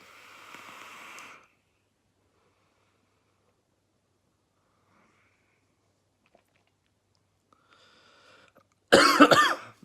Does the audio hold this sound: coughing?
yes